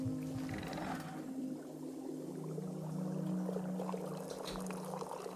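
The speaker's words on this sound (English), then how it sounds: "Pour my tea." Tea pours in the video game Wanderstop as a soft, continuous liquid trickle over low, sustained background music tones.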